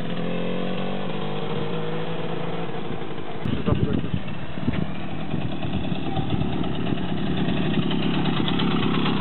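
Romet Pony motorcycle engine running close by, its throttle opened and eased off in uneven swells, with a rough idle between and people talking over it.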